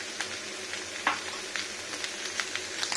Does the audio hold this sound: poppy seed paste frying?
yes